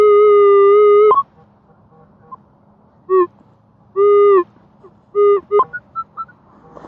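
Steady electronic beeping tones from a metal detector over a shallow target, a long one then several short pitched beeps at irregular intervals, clear and close with no talking.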